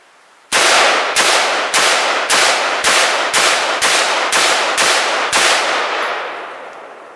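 AR-15 rifle firing 5.56 green tip NATO rounds into a composite bulletproof barrier panel: about eleven loud, sharp shots in quick succession with metallic impact ring, ending in a decaying tail.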